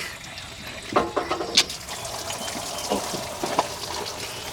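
Coolant splashing and pattering from a truck radiator onto a surface nearby, with irregular spurts and drips over a steady watery hiss, and no voices.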